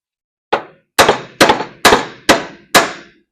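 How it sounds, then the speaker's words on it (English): Six sharp metallic hammer blows drive a tight suspension bushing sleeve into place on a 1981 Mazda RX-7, evenly spaced about half a second apart, loud and close with brief ringing after each strike. "More hammer."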